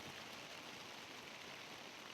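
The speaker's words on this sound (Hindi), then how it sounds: "यहाँ पर बारिश पड़ना स्टार्ट हो गई है" Steady rain falls on a Kedarkantha mountain trek in India, a soft continuous hiss without breaks, fairly faint and even throughout.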